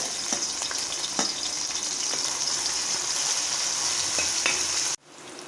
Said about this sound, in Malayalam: വെളിച്ചെണ്ണ ചൂടായിട്ടുണ്ട് അതിനകത്തേക്ക് ചെറിയ ഉള്ളി ചതച്ചതാണ്